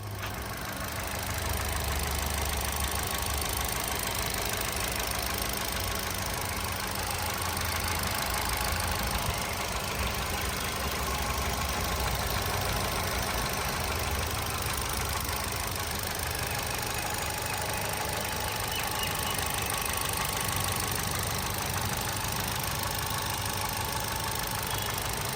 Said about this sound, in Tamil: இந்த வண்டியோட இன்ஜின் சவுண்டு எப்படி இருக்குன்றதை இந்த வீடியோவில் நான் உங்களுக்கு காட்டுறேன்.